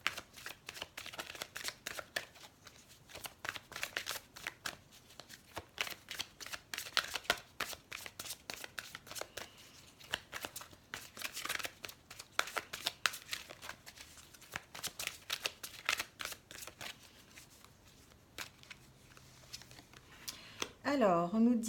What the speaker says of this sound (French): On va faire quelques cartes avec l'oracle les chakras du cœur